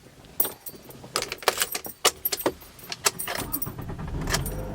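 Keys jangle in quick bursts, then a car engine cranks and catches, settling into a low steady idle.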